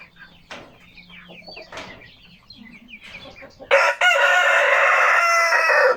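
Hens and a rooster clucking in a farmyard, soft scattered calls at first, then a loud sustained crow bursting in close by and holding to the end; no talk.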